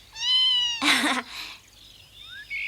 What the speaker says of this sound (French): C'est un petit minou, il est mignon.